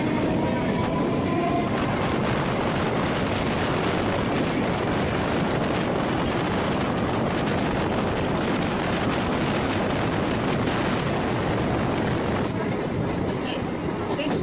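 A local train pulls out of Liluah station on the Howrah–Barddhaman chord line, its steady, loud rumble and rattle filling the whole stretch with a windy roar.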